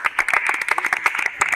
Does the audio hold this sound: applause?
yes